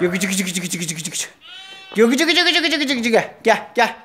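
Lambs bleat in short wavering cries between and under a person's voice calling them over at a farm, with the bleats loud and close.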